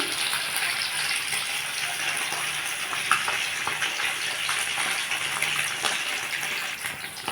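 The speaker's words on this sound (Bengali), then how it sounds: "আমি মাছগুলো ভেজে নিচ্ছি" Fish frying in hot oil in a wok, a dense, even crackling sizzle that holds steady close by, with small spits and pops scattered through it.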